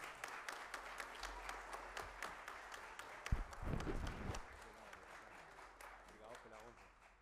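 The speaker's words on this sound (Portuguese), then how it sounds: "Então, na figura do William Vito, peço uma salva de palmas para a homenagem à Venezuela Global" A chamber at a formal ceremonial session breaks into applause with scattered claps that swell and then thin out, mixed with some voices and brief murmuring.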